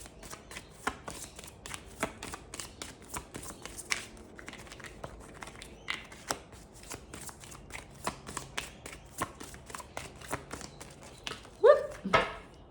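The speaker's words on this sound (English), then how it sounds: "Just wanted to flip the deck." A deck of cards is shuffled by hand, with rapid riffles and sharp flicks repeating close and crisp throughout, and a brief louder rustle near the end.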